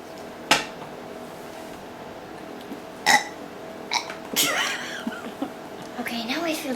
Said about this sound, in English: So you get a big, long burp